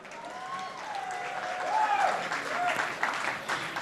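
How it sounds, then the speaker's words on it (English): An audience applauds the performers at a book event, moderate clapping that swells in the middle and stays steady, with a voice talking over it. "Give them a round of applause."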